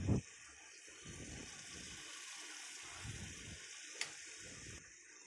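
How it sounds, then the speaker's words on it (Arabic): Broth is ladled over vegetables mixed with tomato paste in a cooking pot, for a stew of meat and vegetables. Three short, soft, splashing pours sound close by and fairly quiet, with no talking. "وهنحط 3 مغارف شوربه على الخلط على الخضار"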